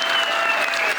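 Crowd of workers at a rally clapping together, a dense, steady burst of applause filling the whole moment at close range.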